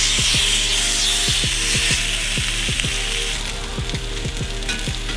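Salmon fillet pan-searing, well into cooking on its first side, with loud continuous sizzling and a quick irregular run of crackling pops throughout.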